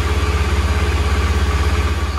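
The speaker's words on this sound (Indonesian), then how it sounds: "Motor sudah dipanaskan." A motorcycle engine idles steadily while warming up in the morning, a close, even low putter with a regular pulsing rhythm and no voices over it.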